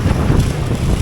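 Wind gusts outdoors on a hot, overcast day buffet the microphone with a loud, low rumbling roar across the whole short stretch, with no talking.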